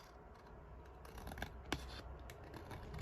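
Scissors trimming along the edge of paper for a junk journal page, a close, soft run of snips and rasping cuts with two sharper clips partway through, no talking.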